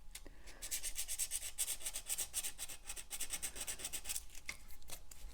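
Sandpaper rubs back and forth over a metal setting around a cubic zirconia stone, making a close, steady rasping scrape in quick repeated strokes, with a brief pause near the middle.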